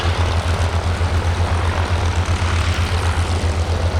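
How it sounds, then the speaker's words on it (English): A Ryan Navion propeller plane's 260-horsepower Lycoming flat-six engine drones loudly and close by at an air show, with a steady low throbbing pulse beneath a broad rushing roar. "Single Lycoming 435, producing 260 horsepower from its flat six engine."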